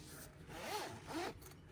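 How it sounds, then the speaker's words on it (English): A zipper on a vinyl crochet hook case is pulled twice in quick succession, two short close rasping strokes in a quiet room. "A zipper."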